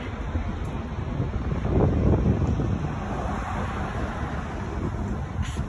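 Wind blows outdoors on a sunny day, buffeting the microphone in a continuous low rumble that swells to a stronger gust near the middle before settling back to a steady roar.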